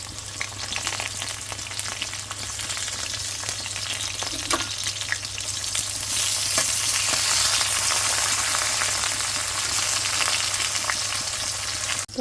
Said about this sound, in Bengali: মাংস ভাজা নিচ্ছি পেঁয়াজটা হালকা তেলা ভাজা দিতেছি